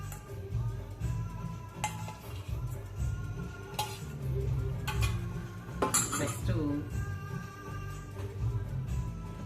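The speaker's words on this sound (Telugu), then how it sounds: "కావాలంటే నెక్స్ట్ ఒక స్పూన్ నెయ్యి వేస్తాను అనమాట కలపడానికి" Spoon scraping and clinking against a metal bowl while ghee is worked into palak roti dough, a close, irregular run of knocks and scrapes with a low hum underneath.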